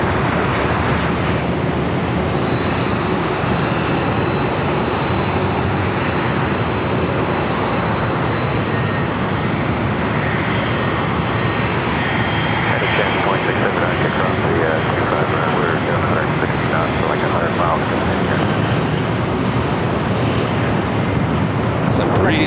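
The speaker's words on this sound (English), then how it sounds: "Airbus A220-300 taking off." An Airbus A220-300 taking off from runway 25 right at LAX roars as a dense, broadband jet rumble, loud and sustained without letup across the whole stretch.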